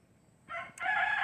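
A backyard flock rooster crows up close, a loud, bright call breaking briefly midway and then resuming strongly to the end, with only faint background hum before it.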